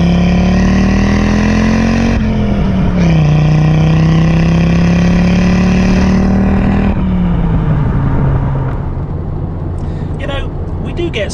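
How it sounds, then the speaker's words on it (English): An original Audi Quattro's engine, rated at 200 horsepower, drones loudly and steadily from inside the car, with revs rising and dipping across gear changes before easing off as someone talks over it. "The noise the engine makes is just divine."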